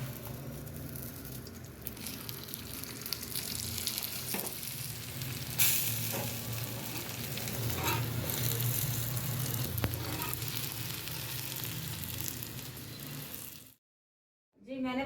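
Cauliflower paratha cooking on a burning stove, a steady close sizzle and crackle of frying that runs continuously with occasional soft scrapes, ending in a brief silence.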